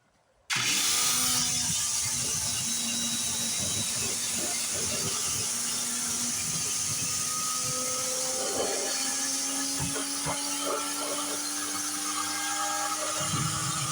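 A pressure washer starts abruptly and sprays a 1986 Dodge 4wd truck in a steady, loud, hissing roar that runs without a break, with faint fluctuations as the spray moves over the body.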